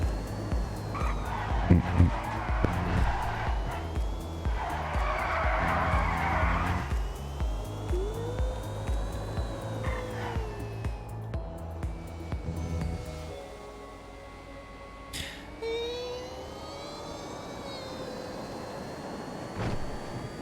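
A car in a roleplay video game accelerates hard, its engine rising through gears with tire squeal and skidding in the first half, then easing to a quieter hum with brief revving later on.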